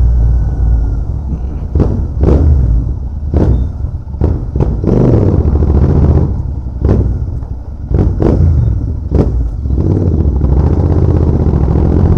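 A Royal Enfield Continental GT 650 motorcycle engine revs repeatedly in sharp bursts, loud and close, over a steady rumbling idle.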